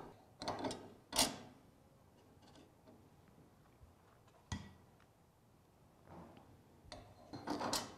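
Metal chippers from a stack dado set are slid onto a saw arbor, with scattered soft clinks, scrapes and a few sharper metallic knocks at irregular intervals against a quiet background.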